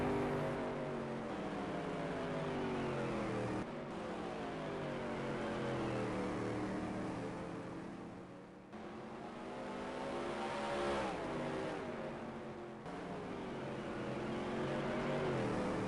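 Supermodified race cars, non-wing class, circling a speedway in the NASCAR Heat racing game, several engines droning and rising in pitch continuously as they pass, loud and steady throughout.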